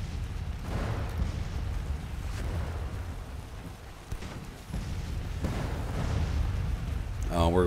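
Artillery in a Civil War strategy game booms repeatedly, several deep rumbling blasts spread across the stretch under a dense battle wash, fairly loud and distant-sounding.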